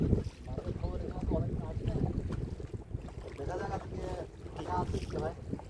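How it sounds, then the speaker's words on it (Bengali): Steady wind buffets the microphone over a rushing wash of big river waves in the Sundarbans, heard from a boat in rain, with voices talking underneath throughout. "পাশাপাশি বিশাল ঢেউ আছে, হাওয়া আছে"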